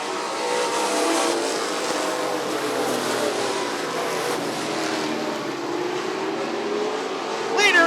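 Late model race cars at Rockford Speedway in a dash race, engines roaring steadily at close range as the pack runs through the corners, with a commentator's voice faintly underneath.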